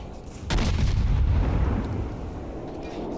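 Naval gun salvo firing in the World of Warships video game, one sudden heavy boom followed by a deep rumbling roar that slowly fades, loud and without talking.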